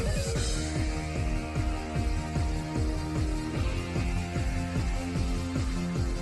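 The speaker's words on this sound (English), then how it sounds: "Yeah, I remember liking this gym battles theme." Pokemon Platinum gym battle theme, an upbeat game track with a driving, repeating bass-and-drum pattern under layered synth melody, steady and continuous with no talking.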